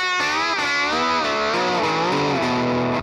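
A distorted electric slide guitar plays a sustained lick with no muting, its pitch sliding and wavering while ringing strings blur into one continuous, loud wash of tone.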